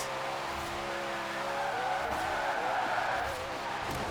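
Koenigsegg in Forza Horizon 4 spinning its wheels, engine howling under a rising tire squeal and skid that builds through the middle and eases at the end, loud and close.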